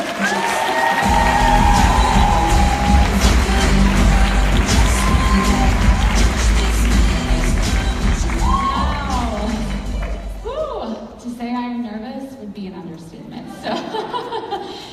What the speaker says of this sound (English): Please give a huge round of applause to our next speaker, Ashley Smith.